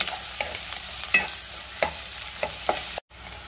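Chopped onion and four green chillies sautéing in a pan for a prawn rice dish, a continuous sizzle broken by repeated spatula strokes stirring through the pan, close and clear, with a brief dropout near the end.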